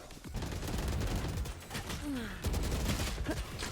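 Gunfire in the video game Valorant during a five-versus-five match, dense bursts of rapid shots throughout with a faint voice now and then.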